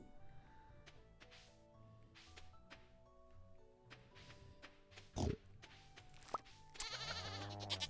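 Farm animals from the video game Stardew Valley, including a pig, let out short game-style grunts and bleats over soft background music, with a sharp clunk midway and a louder burst near the end.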